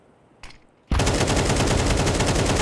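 P250 pistol fire in a Counter-Strike professional match on the Anubis map: after a near-silent moment with one faint click, loud rapid shots burst in and continue in a dense, steady stream close up.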